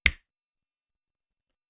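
One crisp finger snap, close and dry, followed by silence.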